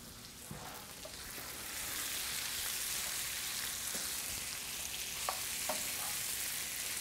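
Wild turkey pot pie filling fries and sizzles steadily in a pan, with a few scraping stirs of a spoon breaking through the dense, close hiss.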